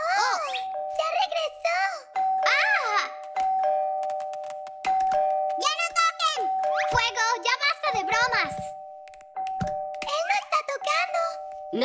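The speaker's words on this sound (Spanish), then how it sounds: "El timbre está sonando." Doorbell ringing in a children's cartoon, a sustained electronic tone sounding repeatedly beneath excited cartoon voices talking over it.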